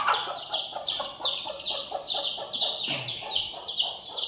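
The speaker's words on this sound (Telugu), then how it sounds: "కోళ్ళు మేతకి ఇంట్లోకి వెళ్తున్నాయి పాపం వర్షం వచ్చేసరికి." Chickens crowding indoors to feed during rain, a steady run of close, repeated clucks and squawks, with a brief low voice partway through.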